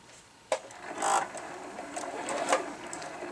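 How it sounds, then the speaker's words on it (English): A sewing machine stitches a quarter-inch seam through quilt fabric in short bursts, a soft whirring hum with a sharp start click, rising and pausing, close and fairly quiet. "I'm just going to put my foot down right there. I'm going to sew about 1/4 inch."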